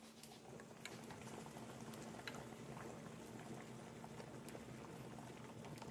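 A pot of water boils on the stove while tang yuan cook, giving a soft, steady bubbling and light patter that stays even and quiet throughout.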